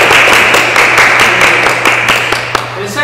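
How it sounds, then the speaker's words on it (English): An audience at a school debate event gives a loud, dense round of applause, many hands clapping continuously and close for about three seconds. "round of applause for science"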